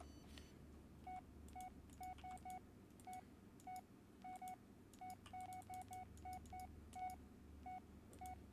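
Touch-tone keypad beeps from a phone dialing voicemail in the horror game Blair Witch, a rapid irregular series of short clear tones over a low droning background, with no voices.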